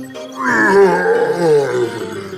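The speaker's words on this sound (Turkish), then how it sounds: "Oo, ayı dede esnemeye başladı." A cartoon bear character lets out a long, drawn-out yawn that swells and slowly sinks in pitch, loud and close with a groaning, moaning quality and no other sound around it.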